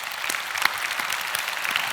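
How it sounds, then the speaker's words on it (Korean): Church congregation applauding during a sermon, a soft, steady patter of many hands clapping at moderate distance, even and sustained. "우리 주님께 박수합시다."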